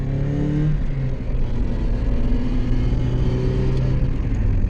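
A Mazda MX-5 engine revs hard on a downshift to second gear on twisty Florida roads, a loud, close, sustained mid-pitched drone with rising and falling engine tones.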